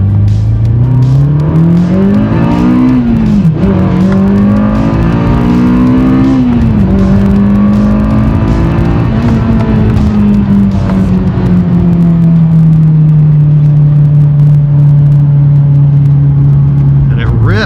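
A small Honda car engine, from a CR-Z or Civic Si, revs up loudly and holds a high, buzzing pitch, rising in steps before settling into a sustained whine, heard from inside.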